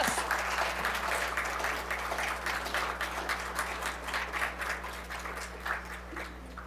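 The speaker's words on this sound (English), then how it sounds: "Can our faculty stand up and take a round of applause?" A university graduation celebration audience gives faculty a round of applause, with steady, moderately distant clapping that fades slightly toward the end.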